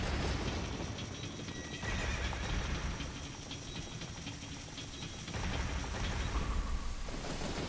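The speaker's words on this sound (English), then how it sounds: "It's a horse. A white horse." A white horse neighs in Ocarina of Time amid dense, rain-like game audio with hoofbeats, a steady loud wash that swells in places, a whinny standing out near the end, no voices.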